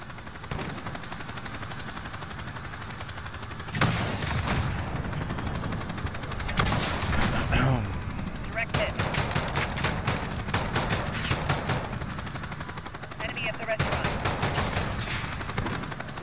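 AS VAL rifle fire in Call of Duty Modern Warfare, several separate bursts of rapid suppressed-sounding shots with gaps between them, heard over steady game ambience with no talk.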